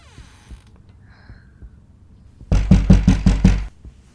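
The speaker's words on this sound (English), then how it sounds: "Someone's knocking." A door is rapped in a quick series of about six loud, close knocks at a house, following a stretch of near silence with faint room hum.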